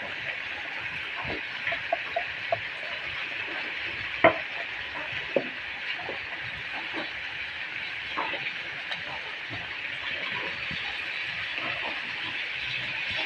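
Chayote being sautéed in a pan while cooking tinolang manok, a steady soft sizzle with occasional stirring scrapes and clinks, fairly quiet and continuous without talk.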